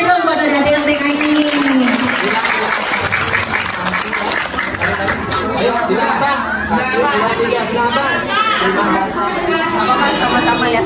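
Warm applause for kindergarten children at a gathering, a crowd clapping steadily for several seconds, mixed with chatter and a voice speaking over it.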